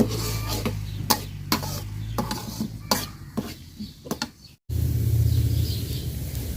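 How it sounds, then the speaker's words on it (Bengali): Chopped onions frying in hot oil in a pot while being stirred, with repeated sharp scraping and clinking strokes of a utensil over a steady low sizzle, close by; the stirring stops briefly before the sizzle returns louder. "পেঁয়াজটা লাল লাল করে ভাজা নিব"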